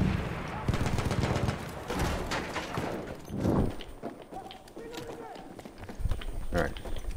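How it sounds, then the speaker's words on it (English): Gunfire in the Battlefield 1 video game, bursts of shots near and distant with hoofbeat-like clatter, mixed under steady talk between players. "he's still shooting out of the top window"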